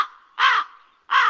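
A person's voice imitates a crow, giving two loud, harsh caws about half a second apart, close and clear with nothing else around them.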